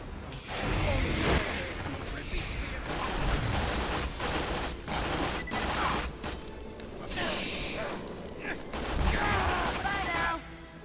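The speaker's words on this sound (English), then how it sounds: "It's actually quite nice to strafe with the Lasco, strafe fire the Lasco." Rapid strafing fire from the Lasco gun in the video game Borderlands, sustained loud bursts with brief pauses between volleys, while a player talks over parts of the shooting.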